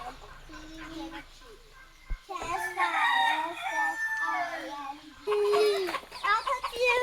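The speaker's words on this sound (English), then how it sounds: "There's so many chickens on the tree." Wild chickens and a rooster on a hiking trail to Manoa waterfall in Hawaii cluck and crow near and far beneath children chattering loudly and almost continuously throughout.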